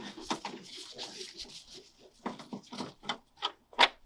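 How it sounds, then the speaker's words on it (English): Screws being backed out with a big flathead screwdriver on a 2015 Ford Focus headlight housing, heard as a close series of short scraping clicks and rasps, irregular at first and then sharper taps toward the end. "So first we're going to take these screws out. Just get a big flathead screwdriver."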